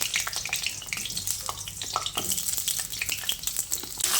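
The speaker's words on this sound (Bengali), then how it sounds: "এবার আলুটাকে দিয়ে ফোড়নের সঙ্গে কিছুক্ষণ ভেজে নিচ্ছি।" Potatoes fry in hot oil with a spice tempering, a dense close sizzle with crackling bursts and stirring scrapes, continuous and fairly loud, with no talk.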